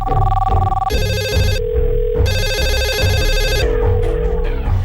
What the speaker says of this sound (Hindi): कराची से आ रही फोन की उस घंटी का कनेक्शन दाऊद की मिनिस्टर कंपनी से था।